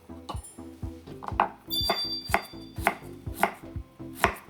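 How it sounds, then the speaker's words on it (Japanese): A kitchen knife mincing garlic and ginger on a cutting board, sharp rhythmic chops about twice per second that get quicker and louder, each a crisp tap close by. "まずにんにく、生姜みじん切りしていきます。"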